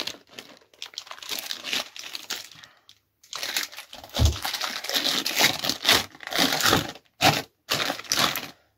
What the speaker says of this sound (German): Jetzt mache ich die Folie einfach wieder so ein bisschen zu, dass sich die Feuchtigkeit besser drin hält